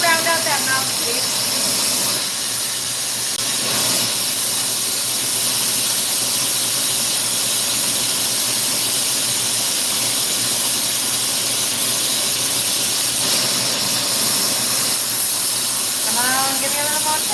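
A power tool whines steadily and loudly as it rounds out the mouthpiece of a custom red, white and blue Sherlock pipe, a continuous high hissing grind that carries on for the whole stretch with little change.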